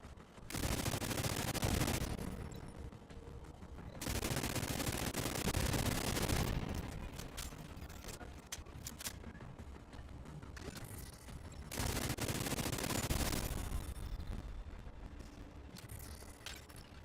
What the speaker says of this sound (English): Automated turrets detected.